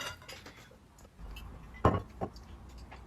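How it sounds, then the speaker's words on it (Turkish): Yogurt, warm water and cooking oil being stirred together in a bowl for a dessert dough, with soft scraping and two distinct clinks of a utensil against the bowl, fairly quiet and without speech. "Yarım çay bardağı sıvı yağ ekleyerek tüm malzemeyi karıştıralım"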